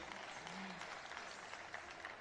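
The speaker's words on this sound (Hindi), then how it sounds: "एक बार फिर से जोरदार तालियां हो जानी चाहिए इन बच्चों के लिए" Faint, distant crowd applause at a school folk dance competition after a Gangaur dance by children, a steady wash of clapping lasting a couple of seconds.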